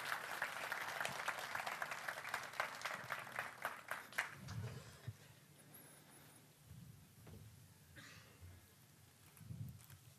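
Audience applause at a journalists' award ceremony in Antalya, a steady clatter of clapping that fades out after about four seconds into quiet room noise with a few faint sounds.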